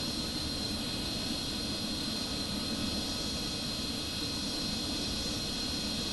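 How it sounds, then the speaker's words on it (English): MiG-29 jet fighters flying aerobatics in a squadron display produce a constant, loud roaring jet noise with a steady hiss and no break. "The MiG-29 shown here are flown by a professional piloting squadron known as the Strigi, Swifts."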